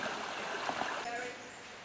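A shallow creek at a bush-track crossing in south-east Queensland trickles and gurgles softly and steadily close by, faint and continuous under quiet outdoor ambience.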